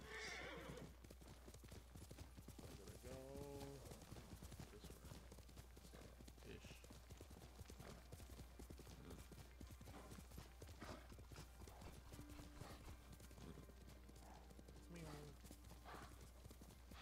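Horse in a samurai video game, steady clip-clop of hooves throughout with a couple of whinnies and neighs, heard under someone talking.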